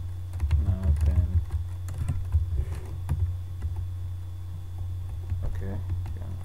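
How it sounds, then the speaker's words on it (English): Rapid clicking of a computer keyboard as text is typed, steady close-up keystrokes over a low hum with a person talking. "You can start typing text here."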